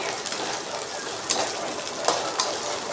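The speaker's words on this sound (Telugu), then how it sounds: "ఓన్లీ బెండకాయనే మంచిగా కలుపుకుంటూ మూత పెట్టుకుంటూ వేయించుకోవాలి" Okra fries in oil in a pan with a continuous, dense crackling sizzle that resembles rain. A few sharper pops come through near the end.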